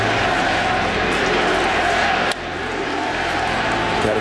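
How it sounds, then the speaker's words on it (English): A dense baseball-stadium crowd chants USA, a loud, continuous roar of many voices that dips briefly midway and then swells back up. "Got a chant of USA as the news goes through the crowd"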